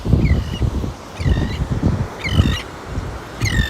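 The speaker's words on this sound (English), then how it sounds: "Yes, bird. You're making weird sounds" A bird gives strange, repeated calls in four separate bursts, a rising whistly or honking sound each time, over a steady layer of low background noise.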